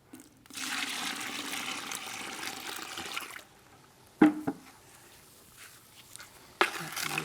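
Water poured into a tub of cement premix to make mortar, a steady splashing pour lasting a few seconds up close, followed by quieter scraping and a couple of sharp knocks.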